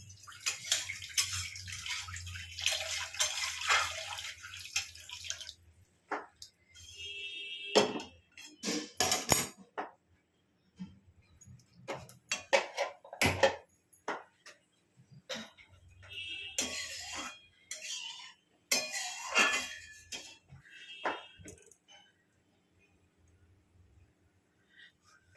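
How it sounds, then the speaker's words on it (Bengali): Hot water splashing and swirling in a wok as it is rinsed after cooking chana dal, with intermittent bursts of pouring and clinking of metal separated by quiet pauses. "আর এই কড়াতেই একটু জল গরম করে এই জলটা দেবো, এই কড়াটাও ধোয়া হয়ে গেল"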